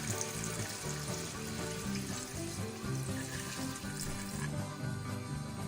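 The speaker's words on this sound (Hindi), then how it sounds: "तो अब हम इसमें यखनी ऐड करेंगे।" Yakhni broth poured into a pot of cooked mutton for pulao makes a steady, splashing rush of liquid mixed with sizzling from the hot pot, with no talk.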